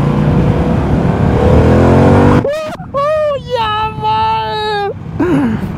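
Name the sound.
Harley-Davidson Pan America 1250 Special motorcycle engine revving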